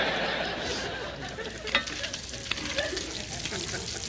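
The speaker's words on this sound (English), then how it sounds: "So that's why you start with the bacon first, getting it crispy." Bacon frying crisp in a pan on a television cooking show, with a steady loud sizzle and scattered stirring and clinks. Voices chatter faintly in the background.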